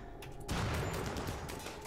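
Colonists trade gunfire during a ship battle in the RimWorld video game, a short burst of overlapping shots that swells suddenly midway and holds loud to the end.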